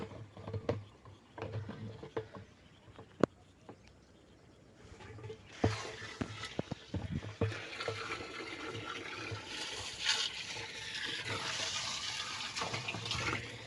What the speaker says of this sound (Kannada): ಓಕೆ ಈಗ ಪೈಪಲ್ಲಿ ನೀರು ಬಿಡೋಣ